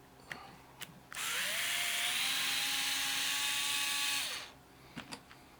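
A power driver fitted with a number 8 Torx bit whines as it backs the mounting screws out of an Oster hair clipper, one sustained high-pitched run of roughly three seconds, close and loud, with faint clicks of handling before and after.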